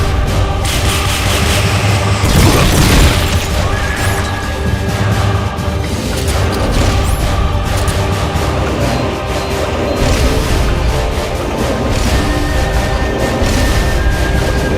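A rocket launcher fires and explodes in Metal Gear Solid: Peace Walker, a loud sustained roar of blasts and crashing booms filling the whole stretch with dense rumbling impacts.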